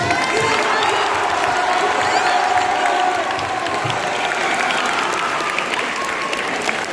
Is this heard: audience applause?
yes